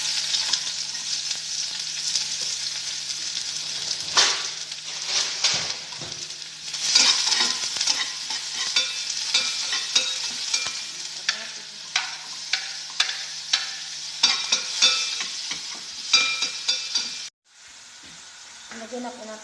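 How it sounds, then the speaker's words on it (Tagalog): Onion, egg and potato sautéing in hot cooking oil, a steady close sizzle broken by repeated scraping and stirring strokes of a utensil in the pan, ending abruptly into a quieter hiss. "Gisa na po natin siya sa mantika."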